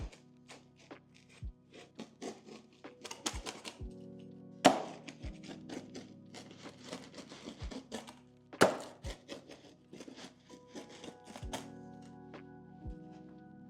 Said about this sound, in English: So how I do it, I cut the pizza up first